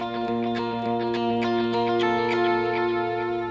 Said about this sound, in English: It would sound like this with the delay on.